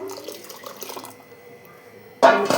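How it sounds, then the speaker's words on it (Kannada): Water is poured into pressure-cooked lentils for a spinach dal sambar, a sudden loud splashing gush arriving after a quiet stretch and running to the end. "ಇದಕ್ಕೆ ಎಷ್ಟು ಬೇಕೋ ಅಷ್ಟು ನೀರು ಹಾಕ್ಕೊಳ್ಳಿ"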